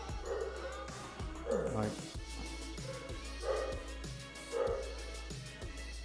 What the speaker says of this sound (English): Ignore those dogs.